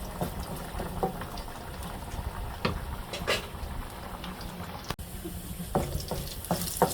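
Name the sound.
green chili frying in hot oil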